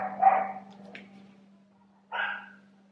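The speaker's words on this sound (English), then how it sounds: "Dogs are barking." Dogs barking outdoors at a house in Croatia, a few sharp barks at moderate distance in two bursts separated by a pause, over a steady low hum.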